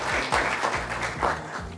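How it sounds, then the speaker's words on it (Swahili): Applause for Dr. Zainab Gura, Head of Health Systems Strengthening at the Ministry of Health, at a health panel event: a short burst of audience clapping, moderately loud and fairly even throughout. "Makofi kwake."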